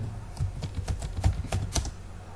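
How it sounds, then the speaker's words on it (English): Close, quick keystrokes clatter on a computer keyboard in an irregular burst of clicks, with no talking. "let me type what would be the economy"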